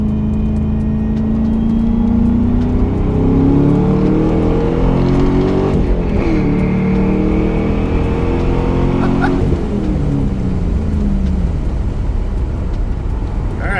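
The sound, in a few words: Pontiac Trans Am WS6 stock LS1 V8 engine merging onto highway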